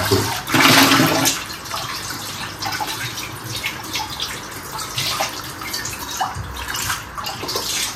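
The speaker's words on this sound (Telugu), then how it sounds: "ఫస్ట్ బౌల్ని బాగా కడగాలి." Water splashes and runs as a cooking bowl is washed in a kitchen, with a loud gush at first followed by steady sloshing and rinsing close by.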